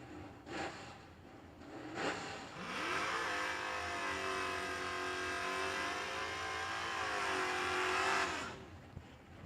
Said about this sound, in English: Brad Talbert using all the RPMs in the burn box